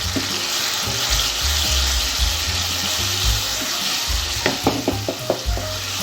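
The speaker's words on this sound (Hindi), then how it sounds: "1 मिनट के लिए अच्छे से भून लेंगे" Chana dal roasts in a pan with salt, dry coriander, cumin powder, red chilli powder and whole cumin, making a steady sizzle with repeated stirring scrapes and clicks that grow more frequent toward the end.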